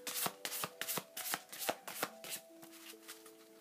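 A deck of tarot-style cards being shuffled by hand, a steady series of crisp riffling slaps close up, fairly quiet, with a faint tonal hum underneath and no talking.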